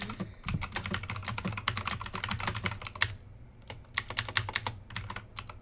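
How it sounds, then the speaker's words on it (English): Fast typing on a computer keyboard, dense bursts of crisp clicking keystrokes close up, with a brief pause near the middle before the rapid tapping resumes. "I'm typing the poll as I read these out to you"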